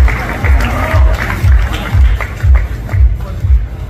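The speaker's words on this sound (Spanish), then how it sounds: "Un fuerte aplauso para Miss Aguascalientes" An audience applauds a Miss Mexico 2023 pageant contestant, Miss Aguascalientes, during her presentation; the clapping is moderate and sits beneath a loud, pulsing music beat that thumps in a steady rhythm.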